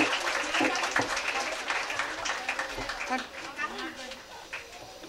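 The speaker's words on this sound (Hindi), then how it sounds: "तबस्सुम सैयद, जोरदार तालियों से हौसला अफजाई कीजिए" Audience applause for a mehndi contest third-prize winner at an International Women's Day prize ceremony, steady moderate clapping throughout with some voices mixed in.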